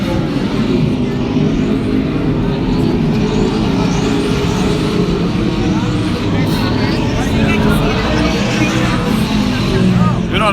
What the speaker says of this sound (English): That's the racetrack, man.